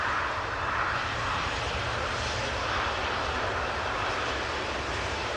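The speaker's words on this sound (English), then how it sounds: "Embraer 175 going to Copenhagen," Embraer 175 jet taking off from Amsterdam Schiphol Airport, a steady broad engine roar with a low rumble that holds evenly throughout, heard at a distance with no voices.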